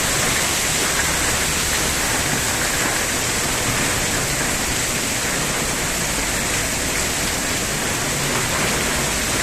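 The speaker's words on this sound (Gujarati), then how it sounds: "જોરદાર વરસાદ." Heavy rain pours steadily with wind during a thunderstorm, a dense, loud, unbroken roar of falling water that holds constant for the whole stretch with no talk.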